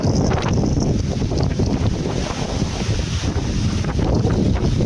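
Typhoon Uwan's strong wind roars and buffets the microphone continuously in Anda, Pangasinan, with a low rumbling gusty noise and no voices.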